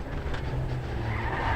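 Rally car skidding hard through a corner on a forest stage in the Australian Rally Championship, tyres scrabbling on loose gravel under a loud, sustained engine roar, close and continuous.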